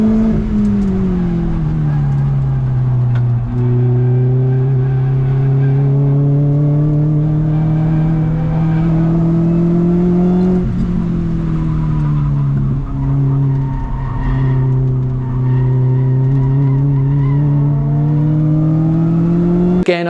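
A race car rounds turns 10 and 11 at the Broadford track, heard from inside the cockpit: a loud engine drone that sags and climbs with throttle, with brief tire squeal through the corners and no talking.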